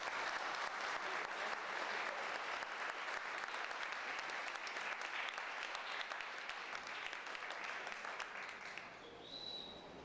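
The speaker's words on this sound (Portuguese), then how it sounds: "uma salva de palmas para os nossos palestrantes" An audience gives a round of applause to speakers at a sustainability event, steady clapping for most of the stretch before thinning and fading near the end, with a faint tone at the close.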